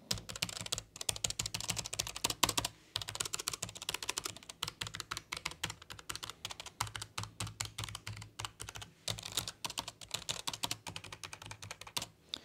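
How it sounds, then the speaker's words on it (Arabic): A Logitech G815 low-profile mechanical keyboard with GL tactile switches is typed on continuously, a dense, fast stream of crisp key clicks close up with brief pauses and no talking. "دابا نشوفوا الكيز كيفاش عاملين كليك ديالهم"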